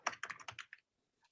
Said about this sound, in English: so when I start typing in that function